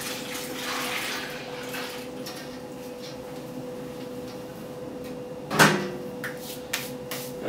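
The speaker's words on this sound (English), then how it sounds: "Try and pour this in so it aerates it a lot, so the yeast gets a lot of oxygen," Water pours steadily into a beer brewing fermenter to aerate the wort for the yeast, a continuous splashing rush with a sharper clatter near the end; no one speaks.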